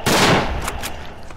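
Gunfire in the World War I shooter game Verdun: a loud, close burst that fades over a second, followed by two fainter sharp shots.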